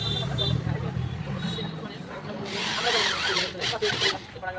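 A power drill drives screws into the bars of a fiber gate frame with whirring bursts that rise toward the end, while voices chatter in the background.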